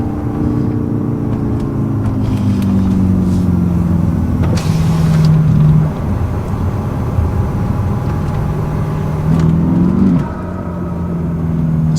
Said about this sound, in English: This car just gets through the gears, I tell you what.